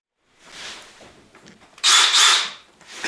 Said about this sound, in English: Okay, I also drill a hole now